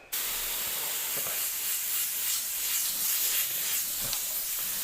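An airbrush sprays paint with a close, continuous airy hiss that swells and eases slightly over a few seconds after a sharp start.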